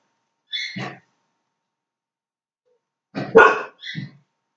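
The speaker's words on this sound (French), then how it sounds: "C'est parce qu'elle entend une chienne" A dog barks in two separated bursts, a single bark and then a quick double bark a few seconds later, fairly close and clear against an otherwise silent room.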